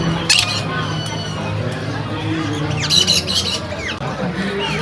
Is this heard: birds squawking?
yes